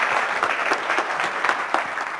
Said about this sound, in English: Round of applause for our 2 volunteers.